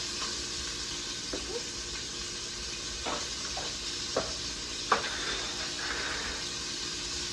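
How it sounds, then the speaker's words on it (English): Cut celery, carrots and onions sauté in olive oil in a pan, a soft continuous sizzle with a few faint clicks of stirring scattered across it. "we're going to saute our vegetables. We've got some cut up celery, some carrots, and some onions"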